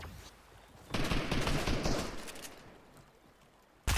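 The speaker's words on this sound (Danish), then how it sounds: "Det er shotgun skud der." Shotgun blasts in Fortnite: a burst of rapid, overlapping gunfire lasting about a second and a half, decaying away, then a sudden loud shot at the very end, with no talking.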